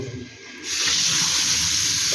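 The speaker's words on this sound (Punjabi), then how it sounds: "ਆ ਹੋ ਗਿਆ ਆਪਣਾ ਫਰੈਸ਼ ਪਾਣੀ ਆ ਰਿਹਾ ਇਹਦੇ ਵਿੱਚ" Fresh water from a motor-pumped tank gushes out of a tap at full pressure, starting abruptly after a quiet moment and then pouring in a steady, loud hiss.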